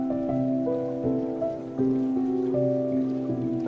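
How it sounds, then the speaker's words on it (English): Water sloshes in a Skyrim riverside player-home basement, a soft, continuous watery patter under sustained ambient tones that shift in pitch now and then. "You can also hear the sloshing of water."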